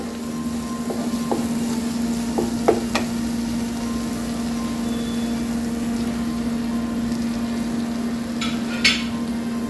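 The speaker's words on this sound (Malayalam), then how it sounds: "ഇനി നമുക്ക് കോളിഫ്ലവർ നമ്മൾ കഴുകി വൃത്തിയാക്കി വെച്ചേക്കണ കോളിഫ്ലവർ ഇട്ട് കൊടുക്കാം" Cauliflower tossed into tomato masala in a pan, a steady low sizzle with a few scraping stirs of a spoon against the pan, close and fairly quiet, no talking.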